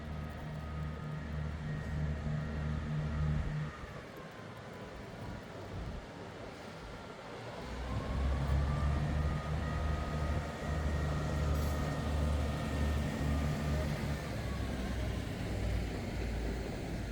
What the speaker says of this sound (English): I caught the Excursion train returning to the station